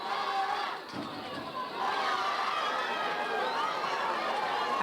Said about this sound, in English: Again, the crowd rise to both teams.